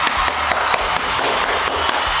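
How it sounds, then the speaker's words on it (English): Rapid, close clapping in a steady patter, like a small round of applause in a makeup tutorial setting, dense and continuous with sharp individual claps standing out. "round of applause for our light coverage girlies"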